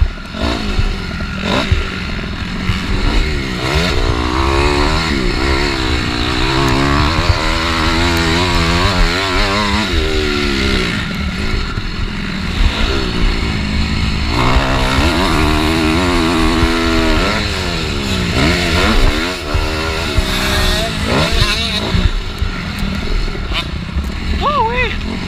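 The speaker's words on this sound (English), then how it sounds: "Riding another new bike." A dirt bike ridden around a motocross track, its engine loud and close, rising and falling in pitch as it revs up and down continuously with the throttle.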